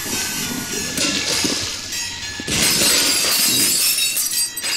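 Glass shattering in the Viscera Cleanup Detail video game, loud bursts of breaking glass with tinkling fragments, a second heavier crash midway followed by scattering shards.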